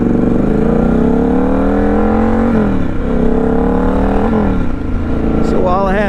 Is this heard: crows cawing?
no